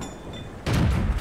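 A T71 tank's gun fires in World of Tanks on the Karelia map, a sudden loud blast after a quiet stretch, followed by a booming, rumbling tail.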